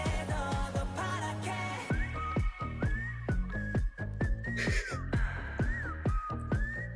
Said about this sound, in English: the whistling makes it feel kind of Western movie.